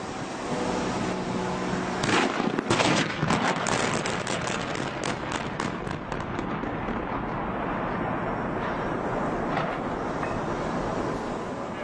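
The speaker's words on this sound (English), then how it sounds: "a lot of loud bangs, as you heard there. Dynamite going off around the base." Dynamite charges go off around the base of the Pontiac Silverdome stadium during a failed implosion, a rapid cluster of sharp distant bangs early on, then fading into a long, steady rumble.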